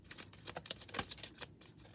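Romance angel oracle cards shuffled by hand, a close run of dense papery flicks and soft slaps that rise and fall in rapid pulses, with no voices.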